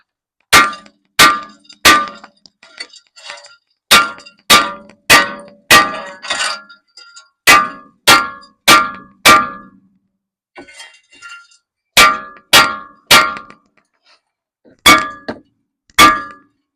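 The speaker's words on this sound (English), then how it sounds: "Now we'll beat the rotor off." Loud, sharp metallic clangs from hammer blows knocking a brake rotor off a Jeep Cherokee, struck in quick bursts of several hits with short pauses between, plus a few quieter rattles.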